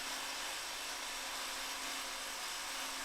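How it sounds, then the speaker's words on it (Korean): A large rotating drill bores blast holes into the rock face at the end of a mine tunnel, producing a steady, dense, loud grinding roar with a faint constant hum beneath it. "가늘고 긴 초대형 드릴을 회전시키며 안반 깊숙이 구멍을 뚫습니다"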